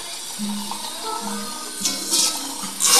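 Water running from a tap with a steady splashing hiss, growing louder in bursts toward the end, with faint background tones.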